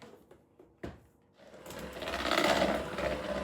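Electric mixer creaming cream cheese and room-temperature butter, a few faint clicks and a knock, then the motor whirs up and runs steadily, close and moderately loud.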